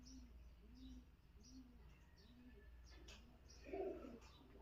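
A Pakistani highflyer pigeon coos softly in a repeated, evenly spaced rhythm, close by against a low steady background hum, with a brief louder rustle near the end.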